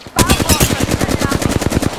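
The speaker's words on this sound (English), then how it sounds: "Shooting." Rapid automatic gunfire in a video game, a loud close burst of evenly spaced shots firing about ten per second for two seconds straight, with no pauses.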